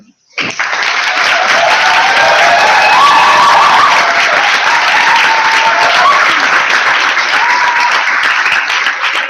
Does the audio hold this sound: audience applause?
yes